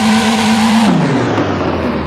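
A loud, close car engine from a video game, given a Mercedes sound, drones steadily, then its pitch drops as it winds down, a synthetic-sounding motor tone.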